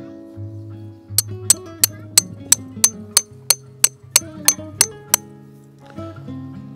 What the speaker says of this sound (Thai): ก็เริ่มตอกจากตรงนี้ก่อน